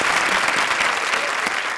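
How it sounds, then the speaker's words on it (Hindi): Dense, loud applause from a comedy show's studio audience fills the whole moment, a steady wash of many hands clapping at close range. "हमारी जोड़ी के लिए जोरदार तालियां"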